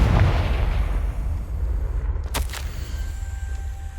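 In Hogwarts Legacy, the Confringo spell sets off a deep, rumbling explosion that decays over a few seconds, followed by a short, sharp crackling burst near the middle and a faint ambient tail.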